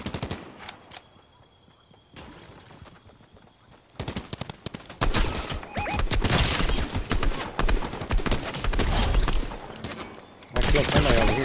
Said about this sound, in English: what are they shooting over here?